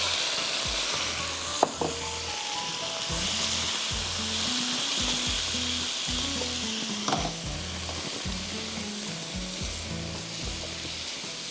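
Marinated meat frying in a pan over full heat, a loud continuous sizzle with occasional stirring scrapes, close up and without talking.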